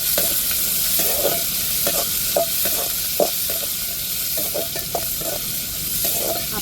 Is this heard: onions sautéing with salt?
yes